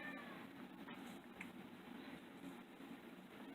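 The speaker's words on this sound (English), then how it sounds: "You might hear the cats in the background talking." Cats meow faintly in the background, a few soft cries over a steady low hum, with no talking.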